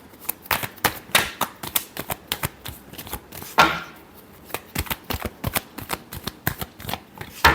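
Tarot cards being shuffled in a rapid series of crisp riffling bursts, close and clear, with a brief pause and a louder sweep midway before the quick flicks resume.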